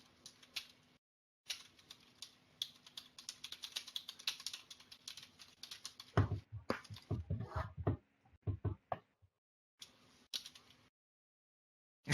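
Fast typing on a computer keyboard during an office exhibition open house: rapid bursts of clicking keys, then a pause, then quicker, louder key strikes in irregular clusters, ending with a sharp hit.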